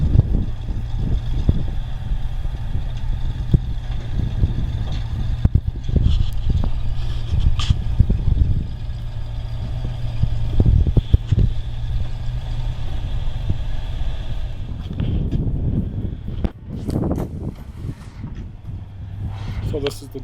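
A Jeep Kaiser M715 with a big block engine, run hard through about two feet of fresh snow, gives a continuous low engine rumble with revving surges and bumps, close by throughout, with occasional brief voices.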